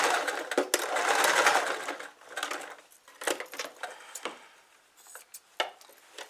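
Sewing machine stitching down quilt binding, a close rattling needle run that is loudest at first, then slows into scattered bursts and clicks with quieter pauses between.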